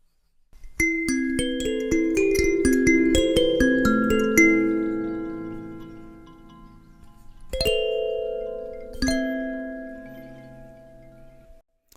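Hokema B9 kalimba run through the Other Desert Cities effect app, a flurry of plucked tines ringing into a shimmering wash, then two single struck notes that swell and decay slowly, with no voices.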